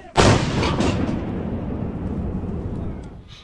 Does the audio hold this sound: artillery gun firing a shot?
yes